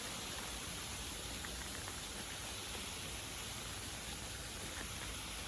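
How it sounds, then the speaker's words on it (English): Water pours over the lower waterfall at Dotty's, heard as a faint, steady, even rushing hiss that holds unbroken throughout, with no voices. "But as the sound of the water fades"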